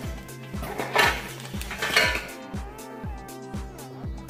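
A metal cake pan is handled, giving a quick run of rhythmic clanks and knocks with brief ringing, close and moderately loud with no voices.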